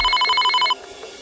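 A telephone bell rings in rapid, trilling bursts for under a second, clear and close, then cuts off, leaving faint room noise.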